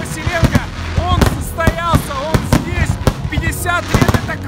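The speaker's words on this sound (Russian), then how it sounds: "грандиозный салют в ночном кипрском небе" A grand fireworks display in the night sky over Cyprus for a 50th birthday celebration, with rapid loud bangs and crackles interspersed with rising whistling shells, close and continuous.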